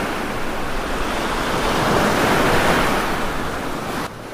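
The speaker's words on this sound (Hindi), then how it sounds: "ये तो समंदर की लहरों की आवाज है।" Sea waves washing onto a beach, a continuous broad roar of surf that swells gently toward the middle and stays loud and close with no voices.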